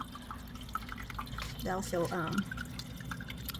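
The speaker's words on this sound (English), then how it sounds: "it sounds like a light little trickle" Water trickles lightly through a Mufga 12 pod indoor hydroponic growing system, a soft continuous drip and gurgle like a small fountain, running under a person speaking briefly in the middle.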